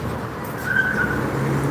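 After a crash on a road, a car engine revs and drives away from the scene, with a brief tire squeal mid-clip over a steady roadway rumble, fairly loud and close.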